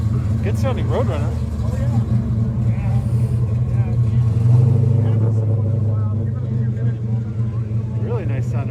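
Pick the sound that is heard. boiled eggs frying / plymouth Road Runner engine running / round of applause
plymouth Road Runner engine running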